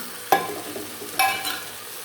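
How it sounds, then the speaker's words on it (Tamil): Chili powder is stirred into onions sautéing in a frying pan for a bottle gourd rice dish, giving two sharp scraping strokes of a spoon against the pan over a soft continuous sizzle, with no talking. "மிளகாத்தூள் போட்டு நல்லா அதோடைய வதக்கி விடுவோம்"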